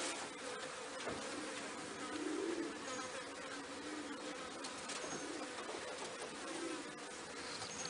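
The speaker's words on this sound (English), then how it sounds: "There's like houseflies buzzing all around here." Faint housefly buzzing drones around, with flies humming close by and drifting away against a quiet outdoor background.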